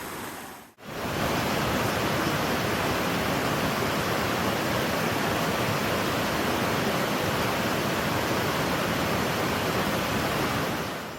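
A mountain river stream near a waterfall rushes steadily, a dense broadband roar of flowing water heard close and loud after a brief dip at the start, with no voices.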